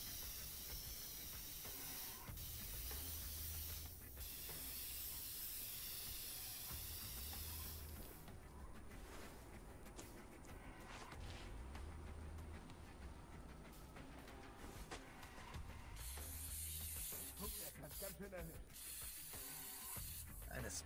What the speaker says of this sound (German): Eine Spraydose in der Hand verschönert jede Wand.